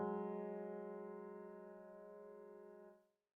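Two sustained tones a whole step apart sound together, a steady harmonic interval held for about three seconds before cutting off.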